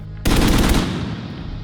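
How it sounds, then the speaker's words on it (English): Gunfire from The Division 2 video game, recorded on an urban street: a loud, sharp burst of rapid shots followed by a long echoing tail reflecting off buildings, with no voices. "the street reflections that happen when you fire a gun on a small street or a big street or square"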